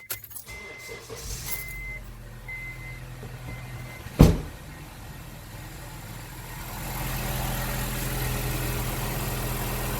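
A 2005 Honda CR-V engine, just serviced with fresh oil, filters and spark plugs, cranks with a sharp burst and then settles into a steady, fairly loud idle that grows slightly fuller toward the end.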